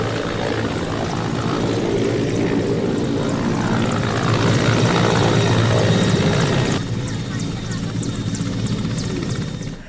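A helicopter flies close by during a preparatory landing trial, its rotor thumping in a loud, steady drone that continues for the whole stretch, with faint talk beneath.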